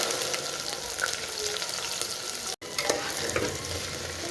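Chopped okra sizzles and crackles in hot oil with mustard seeds and cumin, a steady frying hiss with small pops, briefly dropping out for an instant midway.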